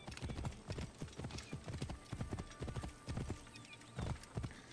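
Horse hooves clip-clopping at a steady galloping rhythm while riding in the Assassin's Creed Origins video game, loud and continuous, with an occasional neigh.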